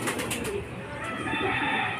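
Racing pigeons return from a training flight and land, with soft bird calls and cooing over continuous outdoor background noise and a faint flutter.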